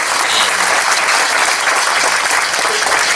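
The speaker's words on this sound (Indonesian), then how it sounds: "Kasih aplaus ya buat teman-teman ya." An audience at a Prudential Indonesia seminar claps loudly and continuously, a dense, even applause from a full room with no voices heard over it.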